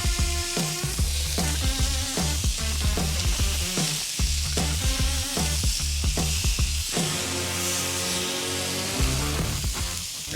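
Burger patties smashed and sizzling on a hot griddle, a loud steady frying hiss broken by repeated scraping, pressing strokes of a spatula in an uneven rhythm, with no talk.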